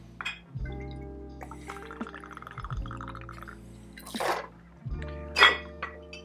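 Tequila measured out and poured for a Mexican 55 sparkling cocktail: soft close liquid trickles and glassy clinks in short bursts over a low background hum.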